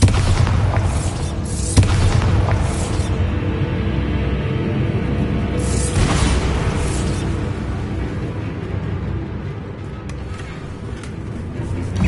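The Bombarda blasting spell in Hogwarts Legacy sets off a continuous heavy booming explosion, loud and close, with deep rumbling bursts sustained for several seconds and no clean silence between them.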